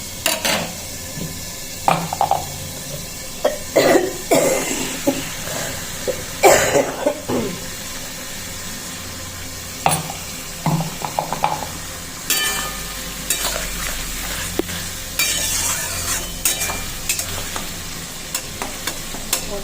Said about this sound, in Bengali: আর এদিকে আমার পেঁয়াজটা ভাজা হয়ে রেখে মশলাটা দিয়ে দেবো এবার